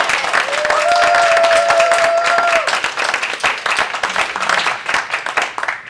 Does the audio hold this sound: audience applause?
yes